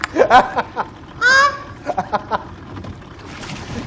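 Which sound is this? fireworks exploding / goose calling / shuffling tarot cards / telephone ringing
goose calling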